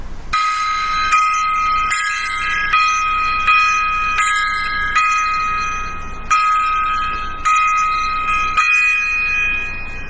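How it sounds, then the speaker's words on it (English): Ten evenly spaced gong strikes ring out as a memorial salute, each a bright metallic hit with a sustained shimmering tone that carries into the next, steady and loud with no talking. "10 gong salute for Mr. Donald Sutherland"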